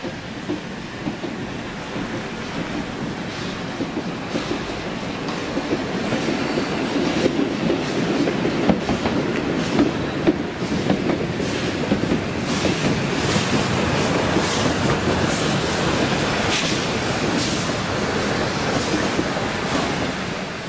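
A steam train on the Harzquerbahn near Benneckenstein rolls along the rails with a steady rumble and rhythmic clickety-clack of wheels, loud and close, with occasional metallic squeals.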